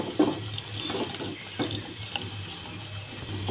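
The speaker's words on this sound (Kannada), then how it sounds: "ನುಗ್ಗಿಕಾಯಿ ಮತ್ತು ಆ ನೀರು 2 ಸಮೇತ ಹಾಕತ್ತೀನಿ ರೀ." Boiled drumsticks and their cooking water poured into a pot, a short splash of liquid followed by soft watery trickles over a steady low hum.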